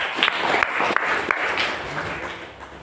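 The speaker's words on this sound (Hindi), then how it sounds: "एक बात है तो के लिए जोरदार तालियां।" Crowd applause at a Bhim Army Ekta Mission village meeting, a burst of clapping with a few sharp claps standing out, fading gradually over a few seconds, with no talk.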